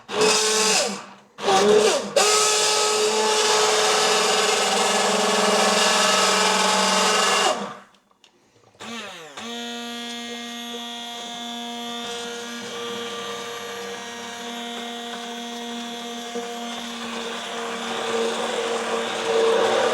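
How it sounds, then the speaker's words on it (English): A hand blender's steady motorized whirring runs close and loud for several seconds, cuts out briefly, then resumes with a strong humming drone through the rest while blending slow-cooker pea and ham soup. "So I'm going to go in with my blender."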